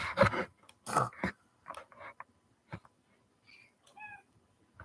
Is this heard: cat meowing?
yes